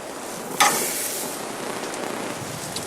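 Asparagus spears sizzle on a hot oiled grill, a sharp crackling burst as they land, then a steady close hiss and spatter that holds through to the end.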